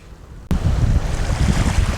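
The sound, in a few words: ocean waves on Rutherford Beach, Louisiana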